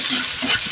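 Garlic and onion sautéing in a pan, a brief close sizzle with soft stirring movement, steady and fairly loud over less than a second.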